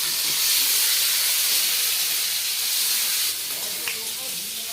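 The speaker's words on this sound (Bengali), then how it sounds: "ভালো করে ভাজা হয়ে গেছে" Chopped onion, green chili and tomato sizzle loudly in a pan, a dense, continuous frying hiss that holds steady and eases slightly near the end.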